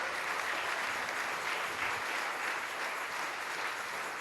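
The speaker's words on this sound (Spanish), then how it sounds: "Denle un fuerte aplauso al Señor." Steady, fairly quiet applause fills a Spanish-language church service, a dense wash of many hands clapping without pause for several seconds.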